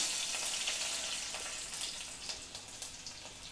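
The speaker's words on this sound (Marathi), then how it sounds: "सुरुवातीला आपण लसूण फोडणीला देऊया" Crushed garlic hitting hot oil as a tempering for spicy sukka chicken gives a quiet, crackly sizzle with small popping spatters, heard softly from nearby.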